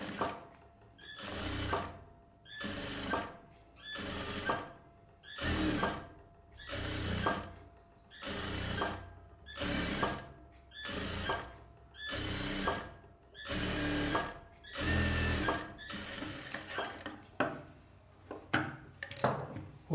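A sewing machine stitches a silk skirt for a one-year-old, running in short regular bursts of about a second each with brief pauses between, repeating steadily and close by with no talking.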